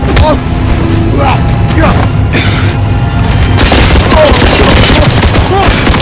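Rapid bursts of gunfire and heavy booms fill a firefight in the video game 007 First Light, with shots and impacts loud and close throughout, thickening into a dense barrage in the second half while voices call out over the shooting.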